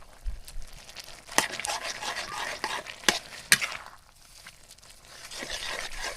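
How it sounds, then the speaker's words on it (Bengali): Mixed leafy greens are stirred in a frying pan in a village kitchen, giving scraping, rustling strokes with a few sharp utensil knocks against the pan over a low sizzle, close and fairly loud. "পাঁচমিশালি শাকগুলো এখন আমি একটু নাড়াচাড়া করে দিব।"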